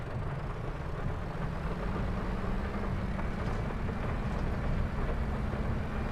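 Rain drums steadily on the roof of a vehicle cab in Farming Simulator 22, a dense, even hiss with a low rumble beneath, continuous and unbroken for the whole stretch with no voices.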